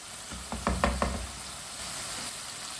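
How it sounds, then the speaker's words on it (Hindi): Peas cook in a pan for a vegetable dish with turnips, a steady soft sizzle running throughout, with a few quick knocks of a spoon against the pan near the start. "मटर को 1 मिनट के लिए पका लेंगे पहले"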